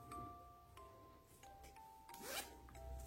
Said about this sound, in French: une fermeture éclair.